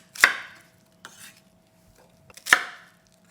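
A knife chops an onion into chunks on a cutting board: two sharp, close knocks and a softer stroke between them, separated by near silence.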